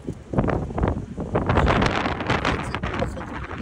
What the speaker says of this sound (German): Es ist auch sehr windig